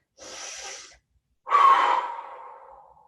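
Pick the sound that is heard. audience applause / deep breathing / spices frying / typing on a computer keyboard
deep breathing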